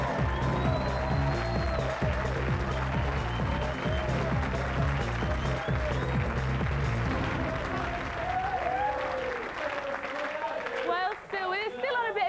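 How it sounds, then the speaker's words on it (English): Studio audience of a British TV comedy show applauding and cheering loudly throughout, dense clapping with whoops and background music, the clapping thinning toward the end. "A round of applause for Liam, the light-fingered wanker."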